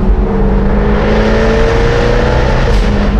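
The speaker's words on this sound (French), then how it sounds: "le moteur, le V8, c'est un V8 à compresseur" A supercharged V8 engine in a Jaguar F-Type R roars loudly and steadily, rising in pitch as it accelerates, heard up close from inside or beside the car.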